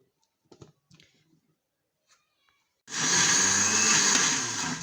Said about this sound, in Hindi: इस तरह से ग्राइंड करूँगी।